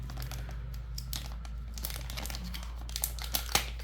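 Plastic package holding a wire stripper being cut and torn open, with soft crinkling and rustling throughout and a few sharper snips and crackles near the end, close and fairly quiet.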